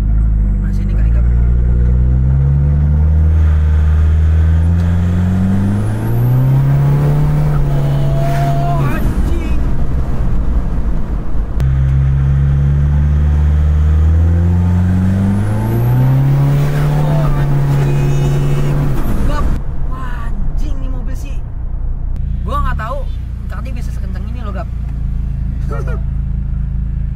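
Modified 654 HP Toyota Innova with a 2KD engine accelerating hard, loud rising engine harmonics climbing through two long revving pulls with gear shifts, then dropping to an idle rumble while people talk.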